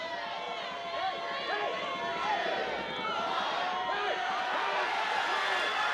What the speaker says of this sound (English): you could hear the crowd counting down the pitch clock